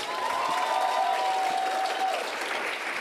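A church congregation at an Easter celebration applauds steadily, a dense wash of clapping from a large crowd with some cheering mixed in, loud and continuous throughout.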